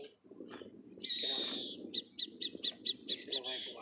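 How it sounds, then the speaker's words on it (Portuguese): An owl calls on a farm, first with a long harsh screech and then with a run of rapid, evenly spaced raspy calls, fairly close and clear against a quiet background. "Olha a coruja aqui, ó."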